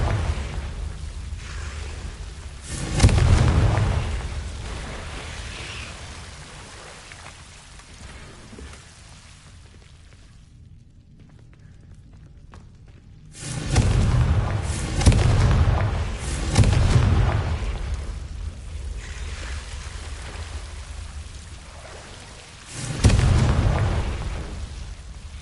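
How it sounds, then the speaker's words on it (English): Confringo fire spell blasts in the video game Hogwarts Legacy, heavy booming bursts landing in three loud clusters separated by quieter rumbling stretches and a brief near-silent gap. "Confringo!"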